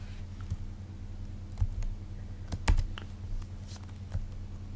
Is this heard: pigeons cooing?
no